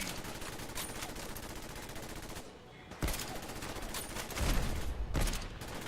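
Rapid gunshots and automatic fire in the video game Fallout 4, loud, steady bursts running almost continuously with a couple of brief pauses, no talking.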